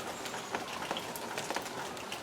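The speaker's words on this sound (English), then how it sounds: "watching the rain come down" Rain falls outside the back door of a homestead, a steady soft hiss with scattered faint patters and drips, moderately quiet and with no voices.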